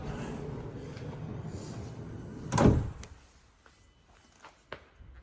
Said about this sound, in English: It has twin sliding side doors.